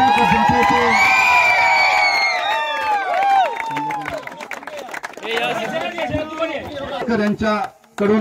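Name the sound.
applause at cricket tournament prize ceremony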